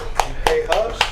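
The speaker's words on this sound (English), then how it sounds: "I'm clapping." Four sharp hand claps ring out in a radio studio, evenly spaced about a quarter second apart, close and crisp, with a voice speaking underneath.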